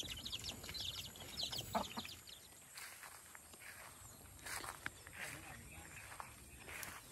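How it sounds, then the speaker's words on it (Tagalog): Chickens cluck intermittently in a rural Filipino yard, mixed with shuffling footsteps and faint background voices, moderately close and fairly quiet. "Ayun na yung mga manok mga kabayan."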